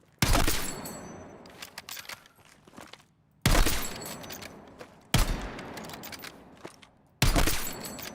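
Gunfire on a Battlefield 6 firing range: four loud, separate bursts of rapid automatic fire, each cutting off abruptly with short gaps between them, close and with no talking.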